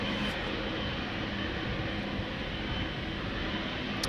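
A KLM Boeing 777-300, 15 years old, departing Amsterdam Schiphol for Johannesburg gives off a loud, sustained jet engine roar, close and continuous with a broad rushing texture.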